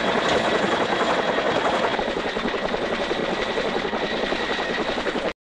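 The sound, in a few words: helicopter in a film excerpt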